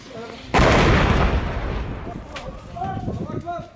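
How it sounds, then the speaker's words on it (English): A mortar round landing just behind a building at the edge of Syria's Abu ad-Duhur Air Force Base, a single sudden loud close blast with a long rumbling decay, followed by faint voices. "A mortar round lands just behind their building."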